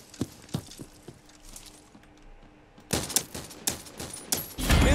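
Gunfire in a free-to-play first-person shooter from the Escape from Tarkov makers, scattered single shots at first, then a louder burst of rapid shots in the second half, with no voices.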